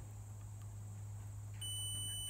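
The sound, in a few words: multimeter continuity tester beeping on tractor wiring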